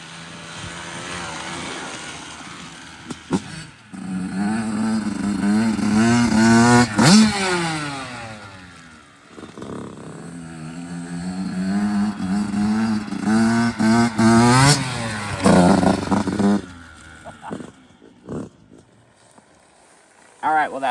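An 85cc dirt bike engine revving hard through wheelies, rising and falling whines that climb and drop repeatedly, loud and close, with speech at moments between the revs.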